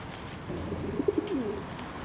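Wood pigeons and a wet black pigeon coo softly in a few low, brief murmurs against a quiet outdoor background.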